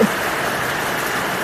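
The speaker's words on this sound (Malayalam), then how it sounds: "നല്ല മഴയാട്ടോ പുറത്ത് ഭയങ്കര മഴ" Heavy rain falls in a constant, full roar of drops, loud and unbroken from start to finish.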